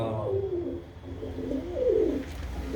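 Domestic flying pigeons in a loft, including red cheena birds, coo in several soft, rolling calls that rise and dip, fairly close and clear against a low background hum with no talking.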